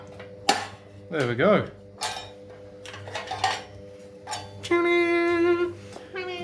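A metal spoon prying and scraping against the baffle inside a Kawasaki VN 900 motorcycle exhaust, sharp clinks and rattles close up, with someone speaking briefly and a ringing metallic scrape near the end.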